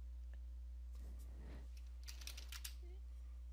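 Typing a command on a computer keyboard in Windows 10, a short run of quick keystrokes, faint and under a steady low hum, with some speech mixed in.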